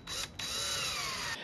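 A power drill bores holes in wood, giving a loud whining spin-up that drops briefly, then returns as a sustained high drone with a falling pitch before easing off.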